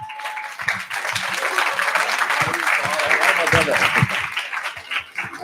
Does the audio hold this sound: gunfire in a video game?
no